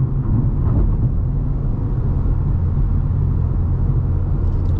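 A G87 BMW M2 cruises through Las Vegas on stock Pilot Sport 4S tires, its exhaust a steady, loud low drone and rumble that holds without a break, with no talking.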